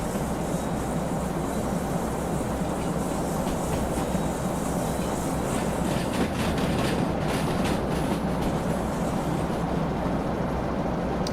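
Train locomotive in the Derail Valley video game running along the track, a continuous loud rolling rumble with rhythmic rail clatter and faint high squealing toward the end.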